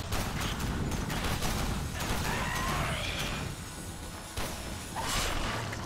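Gunfire from a two-shot pistol in the video game Warframe comes in a dense, loud burst of shots and crashes layered over steady game noise, with a brief lull before firing picks up again.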